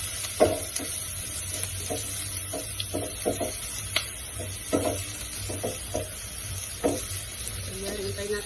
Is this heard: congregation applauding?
no